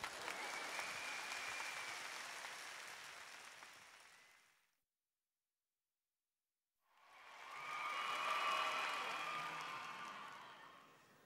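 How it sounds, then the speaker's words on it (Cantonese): Applause from a concert audience at a 2003 live show, a full swell of clapping that fades to silence and then rises again, loud and dense. "俾啲掌聲，阿陳公爵"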